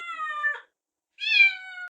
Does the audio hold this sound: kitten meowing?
yes